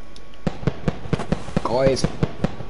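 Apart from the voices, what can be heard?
fireworks exploding in Roblox video game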